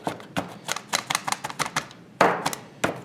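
Rapid pulsing bursts of a food processor chopping chickpeas for a sambusak filling, a quick series of short choppy blade pulses with a louder burst near the end, close and clear with no talking.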